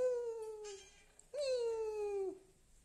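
A pet cat meows twice indoors, two drawn-out, clear meows close to the listener with a short gap between them, with no talking.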